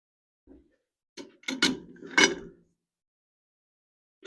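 A nut being loosened on the track drive motor pulley of a Chinese mini excavator, a few quiet close creaks and metallic clicks from a wrench, in short bursts separated by silence.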